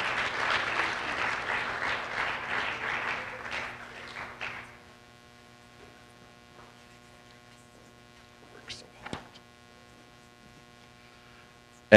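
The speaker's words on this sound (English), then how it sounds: "so clap for her." Applause from an audience at a school sports banquet fills the first few seconds, then dies away to a quiet room with a steady electrical mains hum and a couple of faint knocks.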